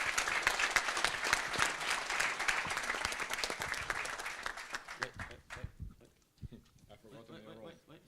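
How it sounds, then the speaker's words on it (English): An audience applauds at a sommelier competition final: dense, lively clapping for about five seconds, then it thins into scattered claps and faint murmuring. "Big applause for this guy."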